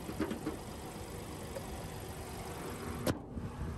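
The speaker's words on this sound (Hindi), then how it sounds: "तो ये था TSI पेट्रोल इंजन" A Skoda Kushaq's 1.5 TSI petrol engine runs at a steady, quiet idle, a low continuous hum with a brief sharp click near the end.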